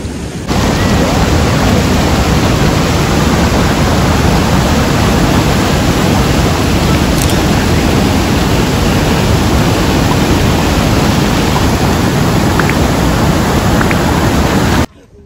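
Waterfall at Natural Bridge in Johnston Canyon, Banff, a loud, steady broadband roar of rushing water heard up close that holds unbroken for the full length, with no voices over it.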